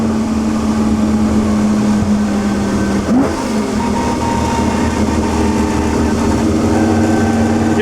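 A Ferrari V12 drones loud and steady along with its transmission whine, one quick shift or blip near the middle, and the engine note holding on at close range throughout.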